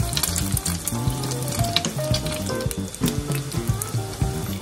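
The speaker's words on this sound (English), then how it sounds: "Using a thin spatula, fry the patties about 1 to 2 minutes per each side or according to preference." Canned salmon patties fry in a hot pan with a loud, crackling sizzle, sharp pops and spatters scattered throughout and the occasional scrape of a thin spatula.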